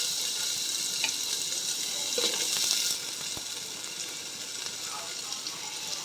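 Pumpkin pieces frying in hot ghee in a pan, a loud steady sizzle close up that eases slightly partway through, with a few stirring knocks.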